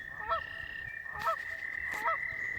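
Three separate honking calls from a goose come about a second apart, moderately near, with a steady high insect-like drone running underneath and no talking.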